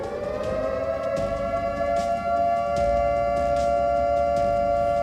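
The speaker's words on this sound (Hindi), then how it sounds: "जिस तरीके का सायरन इस वक्त आप सुन रहे हैं, कुछ वैसा ही सायरन पूरे शहर में इस वक्त अलर्ट कर रहा है" An air raid warning siren wails across Kyiv, a loud, steady tone held throughout, alone with no talk over it.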